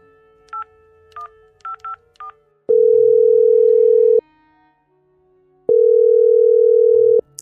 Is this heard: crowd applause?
no